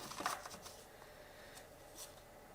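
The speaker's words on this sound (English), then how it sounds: "Let's shuffle one more time." Soft, quiet tarot card shuffling with a brief riffle near the start, then faint rustling and light flicks against low background hiss.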